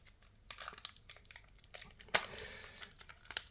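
A Lorcana trading card booster pack wrapper being torn open by hand, a series of crinkling rustles with one sharp ripping tear midway, close and alone.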